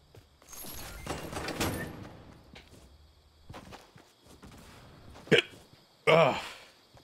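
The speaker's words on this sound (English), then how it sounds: "Hiccups." A person hiccups a few times, sharp abrupt gasps near the end, amid quiet room noise, soft movement and some breathy vocal sounds.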